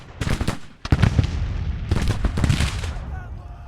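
Artillery in Grand Tactician: The Civil War, Confederate side, firing on clustered regiments: several sharp, booming reports in close succession, with loud cracks and rolling echoes between them.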